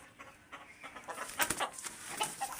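A rooster makes soft, short clucking sounds up close, several quick bursts spaced unevenly and fairly quiet, with handling noise around them.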